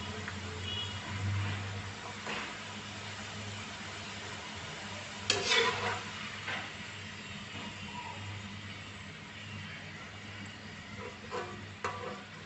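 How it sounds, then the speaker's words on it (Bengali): French fries sizzling in hot oil, a steady frying hiss with occasional stirring clatter and a low background hum throughout, no voices. "আমার ফ্রেঞ্চ ফ্রাইগুলো ভাজা হয়ে গেছে, এগুলো তেলটাকে ছড়িয়ে নিয়ে তুলে নেব।"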